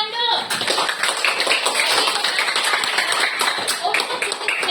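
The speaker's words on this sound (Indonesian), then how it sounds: "Oke, tepuk tangan dulu." Classroom clapping during an academic coaching session, a steady burst of many hands clapping together with children's voices mixed in, fairly loud and continuous throughout.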